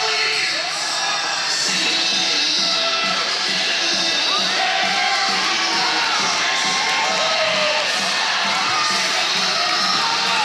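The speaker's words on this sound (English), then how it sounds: "And the crowd is going nuts right now." A wrestling crowd at an RWA Dynasty show roars and cheers wildly, a loud, dense, unbroken wall of shouting and whooping that fills the whole stretch without letting up.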